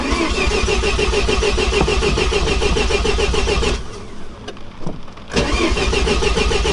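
A Mazda RX-7 that sat unused for 23 years cranks on its starter without firing, a loud steady whirring churn close by that drops away briefly and then resumes, with no voices over it.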